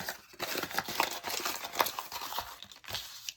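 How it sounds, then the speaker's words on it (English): A plain sheet of paper is crumpled by hand, producing close, irregular crinkling and crackling bursts that continue for several seconds with brief pauses. "if we just crumple it up."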